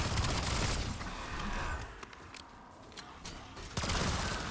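Rapid gunfire in a Call of Duty zombies boss fight, aimed at blowing off the boss's shoulder-pad armor; dense bursts fill the scene, easing briefly in the middle before another loud volley near the end.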